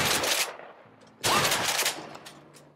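Gunfire in the video game A Way Out comes as two sharp bursts of rapid shots separated by a short pause, loud and close, with ringing tails after each burst.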